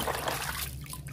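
Animal toys such as a lion, starfish and crab being rinsed in water, a steady close trickle and dribble with light sloshing throughout.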